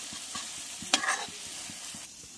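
Peas frying in a kadai give a steady soft sizzle, broken by a sharp spoon scrape and a brief clatter from stirring near the middle, with faint rhythmic low ticks underneath.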